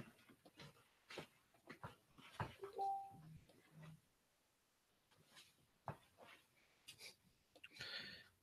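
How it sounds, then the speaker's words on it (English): A puppy whimpers and makes soft yelps amid quiet shuffling and handling noises, faint and intermittent. "Yeah, the puppy dog. Sorry about that."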